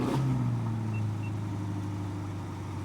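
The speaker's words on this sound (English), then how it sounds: "let me get a startup" A Porsche Turbo GT sport SUV engine starts with a sharp burst, then settles into a steady, deep idle rumble close by.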